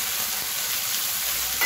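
Chopped onion, beans and carrot sizzle in a hot pan, a close, steady, dense frying hiss for a couple of seconds.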